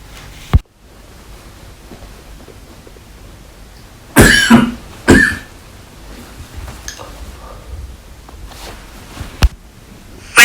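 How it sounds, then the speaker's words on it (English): Coughing as a sound effect in a COVID-19 story: two harsh, loud coughs in close succession, a sharp click before them and a couple of faint coughs and clicks later, over a steady low hiss. "Urashima saw many people coughing on COVID-19"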